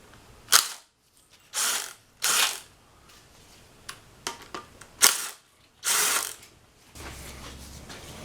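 Close ratchet clicks on the screw holding a 1994 Saab 9000 engine balance shaft, coming in several short bursts of rapid pawl ticking between brief isolated clicks, fairly quiet in a calm workshop.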